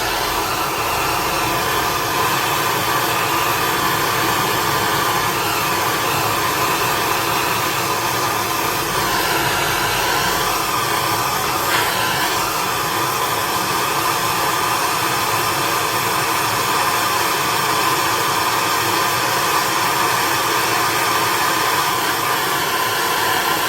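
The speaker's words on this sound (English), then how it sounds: "I'm gonna heat it up here with the torch" A propane torch roars steadily as it heats a rusted nut on a fire pit, a continuous loud broadband hiss that holds unbroken throughout, with no talking.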